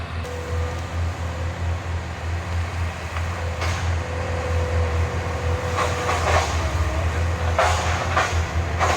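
A skid steer working on a homestead property, its steady low diesel engine drone running throughout, with some clanks and rattles from the machine toward the end.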